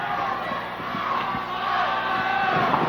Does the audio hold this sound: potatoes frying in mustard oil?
no